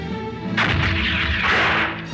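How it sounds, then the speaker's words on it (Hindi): Artillery cannon fire across the Yamuna river during an Afghan–Maratha standoff: a heavy booming blast erupts about halfway in and rumbles on with rolling, crashing reverberation through the rest, loud and with no voices. "दूसरे किनारे पर कोई हलचल नहीं तो फिर ये गोलाबारी की"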